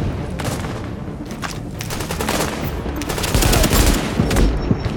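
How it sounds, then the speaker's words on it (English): Sniper and automatic gunfire in the video game The Division, with dense overlapping shots crackling throughout and heavier booming hits growing louder toward the end, no talking. "Who's shooting me? Probably the sniper."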